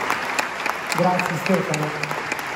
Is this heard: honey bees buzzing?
no